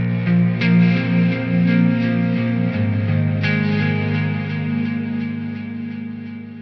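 Electric guitar runs through an STL Tonality amp simulator with EQ, delay and reverb, playing sustained distorted chords and notes with echoing tails, loud and alone.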